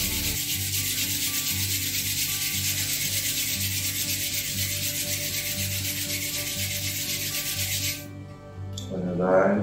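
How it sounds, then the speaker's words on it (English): Palms rub together steadily and close for several seconds during a lockdown yoga session, a continuous dry swishing friction that stops near the end. "just rub your palm"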